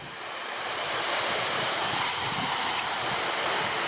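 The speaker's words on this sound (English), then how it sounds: "Really nice waterfall." Browns Falls, a waterfall in Queensland, pours in a steady broadband roar heard from close by, a constant rushing wash of falling water with no voices.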